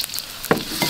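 Sliced shallots sizzle in hot cooking oil, a short close-up crackle with a sharp burst midway as they are stirred, no voices present.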